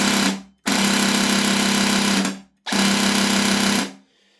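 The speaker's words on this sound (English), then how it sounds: "That has got to be one of the most satisfying sounds I've ever heard from an electric gun." A Well Pro WE23 Mini electric airsoft gatling pistol fires two sustained buzzing bursts, about two and one and a half seconds long, each a dense mechanical whir with a steady hum, loud and close with a short gap between.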